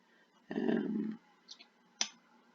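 Clicking from a typing secretary character in a hospital simulator game built with a low-poly Unity hospital asset: a short burst of rapid clattering, then two brief isolated clicks in near silence.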